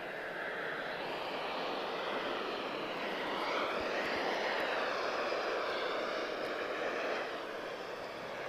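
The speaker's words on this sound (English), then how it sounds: "One more takeoff." A jet airliner roars steadily during takeoff at Lisbon Airport, a broad loud engine rumble that swells slightly in the middle and holds for several seconds, heard from a distance with no talk.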